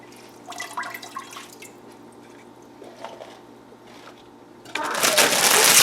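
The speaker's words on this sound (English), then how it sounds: "so I'm just going to rinse them in cold water" Cold tap water runs over cooked ferns being rinsed at a kitchen sink, starting as light dripping and splashing, then swelling into a loud, steady gush for the final second.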